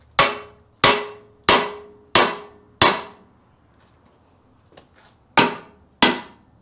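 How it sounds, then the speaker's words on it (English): Seven sharp metallic hammer strikes on a vice during restoration ring out, five in a quick steady rhythm, a pause, then two more, each clang decaying quickly. "I'm gonna go grab a hammer and give it a tap or two."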